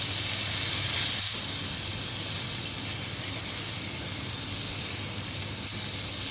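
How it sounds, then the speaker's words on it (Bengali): Fish frying in hot oil in a home kitchen, with bitter gourd frying alongside, giving a continuous even sizzle and hiss at moderate loudness with no voices. "মাছ ভাজাটা এখানে হচ্ছে"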